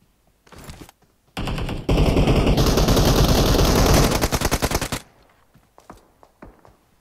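Rapid automatic gunfire in a video game, a few short bursts then a sustained loud rattling volley lasting several seconds before cutting off.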